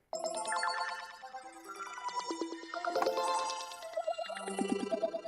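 Synth tone passed through three auto filters in a sound design rack, amounts cranked and rates set differently, giving a busy, warbling stream of pitched bell-like blips that shift and sweep continuously, loud and close, with no voices.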